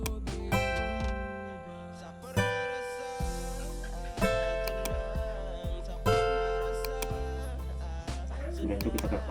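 A Real Guitar 5.0 virtual guitar plugin plays a solo over a backing track, with bending lead notes and quick runs above steady bass and drums, played continuously and fairly loud.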